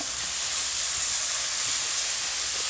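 Rice and peas sauteing in a pan for mattar pulao, a steady loud hiss of sizzling oil running unbroken from start to end.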